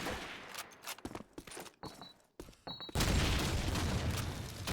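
Grenades and gunfire in a Call of Duty 2 tournament match: choppy bursts of shots and thuds over the first three seconds, then a sustained loud, rumbling roar of explosion noise to the end.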